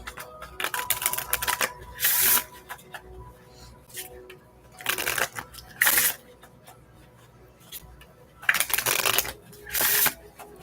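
A deck of tarot and oracle cards is shuffled by hand close up, giving several bursts of crisp riffling and snapping. Between the bursts come quieter taps and slides of the cards, spread unevenly across the clip.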